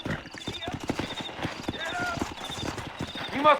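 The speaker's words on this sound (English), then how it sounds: "I'll find us a fine place to hide these horses" Horse hooves clip-clopping at a steady rhythm in the Red Dead Redemption western video game, moderately loud beneath continuous male speech, with a brief whinny-like sound near the end.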